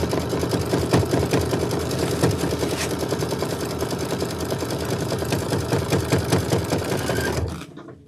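A sewing machine stitching quilt pieces together, a steady rapid mechanical whir of stitches running close and loud for several seconds before stopping abruptly.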